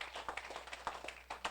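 Church congregation applauding during a prayer week service, with scattered rhythmic claps at a steady pace, faint and somewhat distant in the room.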